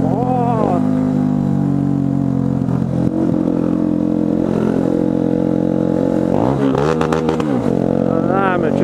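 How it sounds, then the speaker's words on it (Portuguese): Busy street traffic with many cars and motorcycles, engines droning and revving continuously with passing vehicles, loud and close, while a person talks over the noise. "Muito carro, muita moto."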